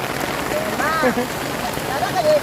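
Steady, dense rain pours down on a surface, a constant hiss with voices speaking briefly over it.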